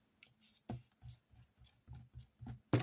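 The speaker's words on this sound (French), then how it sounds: "Je vais essayer de gommer." A pencil eraser rubs back and forth on paper during a craft kit project, giving soft, quiet scratchy strokes in an irregular rhythm, close up, ending with a louder scuff.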